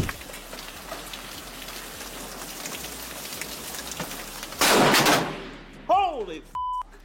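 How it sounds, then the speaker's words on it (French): Hail pelts the outside of a house in a steady, dense patter, then a sudden loud burst like a close thunderclap cuts through before fading, followed by brief electronic beeps. "Le 1er août 2011, Mike Akers enregistrait une tempête de grêle dans la maison de ses parents"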